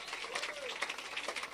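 Congregation at a church deliverance service applauds in a steady, dense patter of many hands clapping, heard alone at moderate level.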